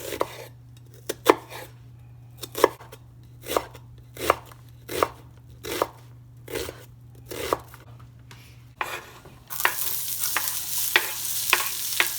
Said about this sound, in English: I'm gonna put my butter in there, let it melt.